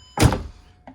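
A Mercedes CLS W219 car door shut with one solid, heavy thunk up close, followed by a faint short click as it settles.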